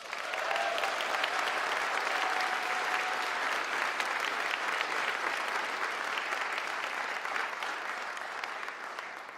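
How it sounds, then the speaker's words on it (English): Crowd at a White House climate action event in Charlotte applauds, sustained dense clapping from a large audience that swells early and slowly tapers toward the end. "Let's give them a round of applause."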